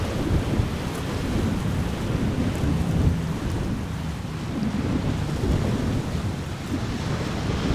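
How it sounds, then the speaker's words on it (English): Heavy rain pours during a storm at Amsterdam Schiphol Airport, a dense, unbroken roar of falling water mixed with gusting wind buffeting the microphone. "I'm wearing rain trousers, but the rain is sliding into my socks."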